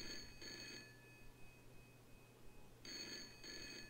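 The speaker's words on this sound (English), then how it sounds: "Come on, guy. Answer the phone." A telephone rings in the Broken Sword video game with two paired bursts of bright electronic trills. A quiet gap separates the pairs, and the ring plays faint and alone.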